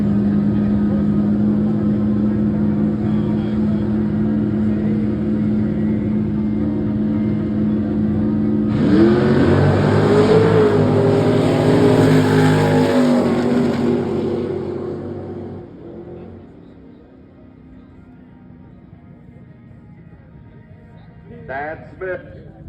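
Drag racing cars, the Dogfight 632 and a Mustang, launch down the strip, a loud burst of roaring engines that swells for several seconds and then fades into the distance, with an announcer's voice heard over the start.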